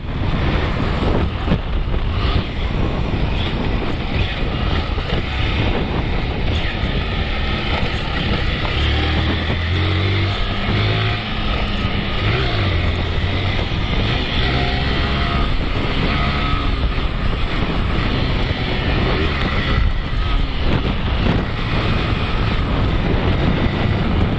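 2017 Honda CG Start 160 motorcycle running at top speed, a loud continuous engine drone mixed with heavy wind rush, close and sustained for the whole stretch, with no talk.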